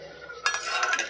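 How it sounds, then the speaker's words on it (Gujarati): A spoon stirs milk with lemon juice in a pot while making paneer, starting after a quiet moment as a short burst of scraping and swishing with faint clinks, fairly close. "હલાવી નાખશું."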